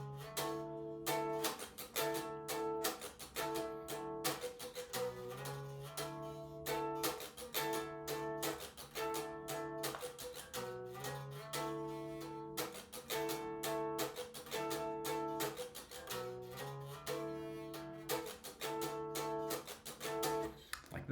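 Electric guitar in drop D tuning plays a riff, full chords with a repeating rhythmic pattern and accented strums, loud and alone throughout.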